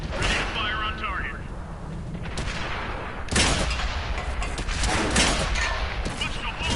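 Tank cannon fire from a Matilda tank video game: dense booming blasts and crackling impacts over constant rumbling battle noise, with a sharp loud shot near the middle and more bursts after, fairly loud throughout.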